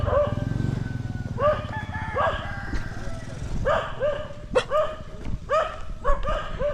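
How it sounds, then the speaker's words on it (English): Dogs bark repeatedly behind someone walking outdoors on a gloomy day. The barks are loud, close and come in clustered bursts over a rumbling background. "Don't usually have trouble with these dogs, but just don't like them behind me."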